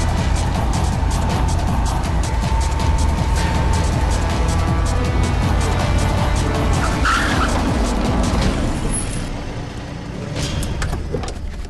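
A car pulls away hard with tires skidding and squealing, a loud continuous engine and rubber roar that eases off near the end, with no talk over it.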